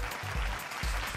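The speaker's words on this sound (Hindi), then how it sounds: "64 साल के आर बांगड़ू साहब का स्वागत कीजिए मंच पर जोरदार तालियों के साथ।" Audience at an agricultural awards ceremony applauding, a soft, steady patter of clapping with faint low thumps.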